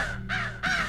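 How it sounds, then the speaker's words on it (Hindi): A crow gives two loud, close, harsh caws with a short pause between them, heard alone over a low steady hum. "कहाँ कौआ,"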